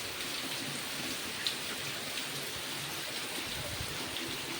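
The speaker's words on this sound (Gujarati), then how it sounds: "વરસાદ એટલો ભીની ધારેથી પડે ને શાંતિથી" Gentle rain falls steadily at a cow shelter in Gir with no wind or thunder, a soft, even patter that continues through the clip with a few faint, isolated drips and no voices.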